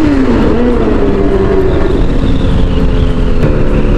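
A big-bike motorcycle engine, with switchgear matching a Kawasaki ZX6R, runs loudly and steadily close by, a throaty drone that shifts slightly in pitch, with no talk over it.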